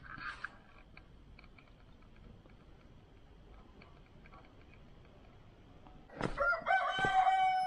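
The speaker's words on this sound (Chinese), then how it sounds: "鸡叫狗鸣啊。" A rooster crows loudly in an old riverside village in Guizhou, a strained drawn-out call that breaks in near the end after a quiet outdoor stretch with a faint early cluck.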